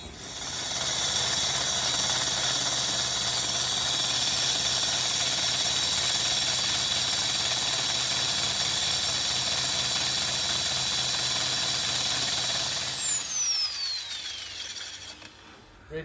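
A plumber's power drill with a pilot bit bores straight through a dry wall, a loud continuous grinding whir that runs steadily for several seconds before winding down and cutting off.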